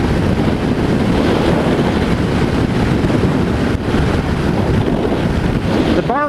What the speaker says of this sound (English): Wind's hitting me right in the chest.